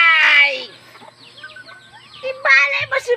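A chicken squawks and clucks close by in short, harsh bursts: one at the start, then quieter calls, then a louder cluster near the end.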